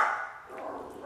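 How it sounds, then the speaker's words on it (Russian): A dog gives a short bark close by, loud at the start, and a second yip cuts in right at the end of the short burst. "Хватит гавкать."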